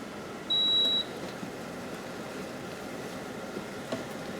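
A Cosori multicooker gives a single clear electronic beep as it is switched off during a one-pot bolognese, a steady half-second tone over faint room hum.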